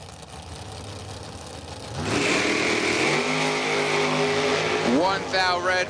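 A drag racing dragster launches at the Octoberbucks 150 event, a loud engine roar rising in pitch as it pulls away, then a rapid sweeping upshift near the end, heard at a distance over crowd and track noise.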